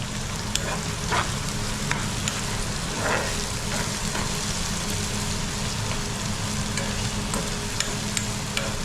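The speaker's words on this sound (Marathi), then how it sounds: "थोडा अजून भाजला पाहिजे कांदा" Chopped onion frying and being stirred in hot oil with curry leaves, a steady close sizzle with scattered crackles and spatula scrapes, no talking.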